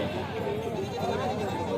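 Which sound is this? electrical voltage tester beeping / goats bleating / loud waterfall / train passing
goats bleating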